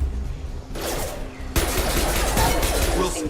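Heavy, continuous gunfire during a Mass Effect firefight on a mech-infested station. Dense crackling shots surge loudly about halfway through and keep going without a break.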